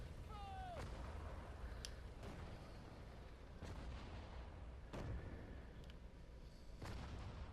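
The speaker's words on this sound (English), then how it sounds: "I want you infantry here to fire" Infantry rifle fire in Sudden Strike 4 during the 1940 Battle of Sedan, with scattered sharp shots spaced a second or two apart over a constant low battlefield rumble, fairly quiet overall.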